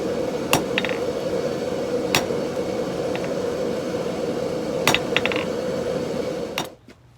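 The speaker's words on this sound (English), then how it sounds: "now we're just going to go through and texture the petals with a small cross peen" A small cross peen hammer cold-texturing thin steel rose petals, struck in a few sharp, separate metallic taps with pauses between them over a steady workshop hum, no talking.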